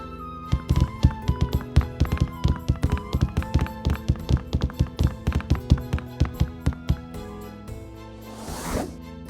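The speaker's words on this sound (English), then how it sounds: "Oh, I hear footsteps." Hard-soled footsteps of an actress walking in the PC adventure game Ceville: a steady run of close, loud, evenly spaced steps lasting several seconds, ending with a brief breathy swish and no talk.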